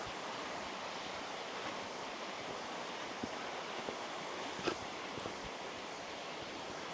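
Continuous rushing water of a small waterfall in a forest valley, Hanggol Valley in Jeongseon, South Korea, a steady broadband roar with a few faint knocks and splashes, no voices.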